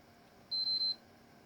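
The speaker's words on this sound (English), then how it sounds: "So the eject button works because it beeps." A PlayStation 4 console's eject button sets off three short, steady electronic beeps in quick succession, clear and close against a quiet room.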